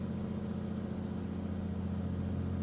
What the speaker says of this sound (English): We'll test our magnetos. Looking for the drop in RPM.